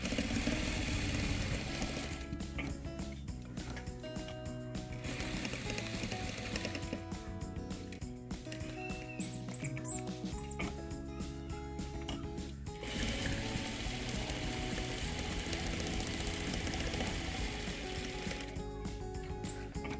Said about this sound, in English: one more stitch around and then you'll go around once more